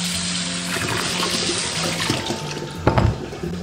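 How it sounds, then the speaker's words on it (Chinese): Running tap water rinses a small pumpkin in a kitchen sink, a steady close splashing stream with a brief louder gush near the end. "然后再用流水给它清洗干净就可以了。"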